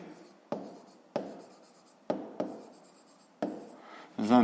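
Pen scratching across paper while working a math exercise, in about six separate strokes or short bursts of writing, close and fairly quiet, with a brief louder scrape at the end.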